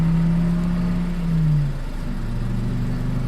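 A car engine in a video game runs again with a smooth, fairly loud steady drone. Its pitch shifts partway through as it settles into a lower, even hum, and no voice is heard.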